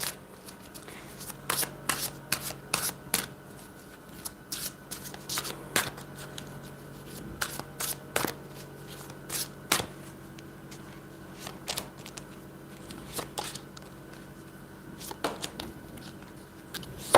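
A deck of cards shuffled by hand for a card reading: repeated quick riffling bursts at an irregular rhythm, close and fairly soft, with no talking.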